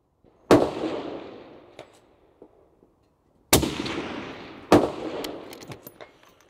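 Three sharp rifle shots from surplus ammunition, fired with a recoil-operated trigger outdoors, each a loud crack with a ringing, decaying tail, the first alone and the last two a second apart after a pause.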